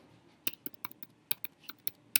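Clicky keystrokes on a computer keyboard while filling in an online hiring registration form, about a dozen irregular taps spread across the moment, close and fairly quiet with no talking.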